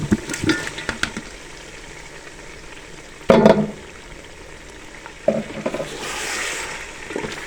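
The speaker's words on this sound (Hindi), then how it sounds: "तो हमने जो चिकन फ्राई किया था इसमें शामिल कर देंगे" Fried chicken pieces tipped into a sizzling korma masala for layered chicken biryani, with a loud hiss and bubbling as they hit the pot, then stirring clatter and renewed frying, nearby and with no speech.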